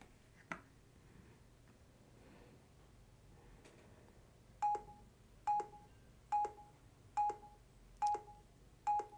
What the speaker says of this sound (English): So as you can hear and see, that's the disconnection alert